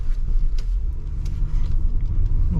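A 2017 Ford Explorer Sport 4X4 rolls over a bumpy road, heard from inside as a steady low road rumble with small knocks and rattles from the cabin, and no talking.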